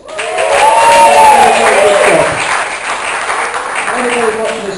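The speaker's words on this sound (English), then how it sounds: "Give her a round of applause." Applause and cheering from a club audience at a live gig, loud and steady through the clip, with a voice speaking over it and a brief laugh near the end.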